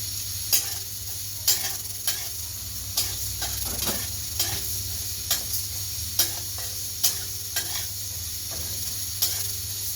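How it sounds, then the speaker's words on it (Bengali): Mung dal frying lightly in a pan gives a soft, steady sizzle under a low hum, broken by regular scraping taps as a spoon stirs the lentils. "মুগ ডালটা হালকা ভেজে নিলে একটু খেতে ভালো লাগে, আর বেশি ভাজলে কিন্তু সিদ্ধ হয় না তাড়াতাড়ি। তো হালকা ভেজে নিচ্ছি।"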